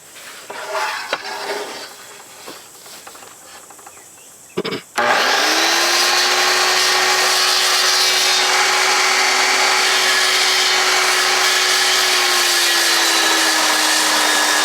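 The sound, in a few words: saw blade cutting timber for Japanese scarf joint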